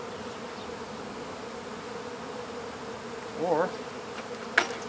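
Bees swarm close by during a bee trap-out in poor weather, a continuous droning buzz with a louder buzz passing near the microphone, while a person briefly speaks.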